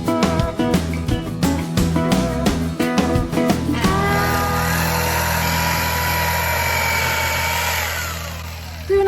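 A handheld power saw cutting boards during a cargo trailer build, first stuttering through short rhythmic bursts, then settling into a steady loud whine as the blade runs through the wood.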